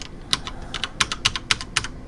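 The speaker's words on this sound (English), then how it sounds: "I'm pressing every key in the keyboard right now" Computer keyboard keys pressed in a steady run of sharp, close clicks, about four per second, with no voices, during play of the horror game Amnesia: The Dark Descent.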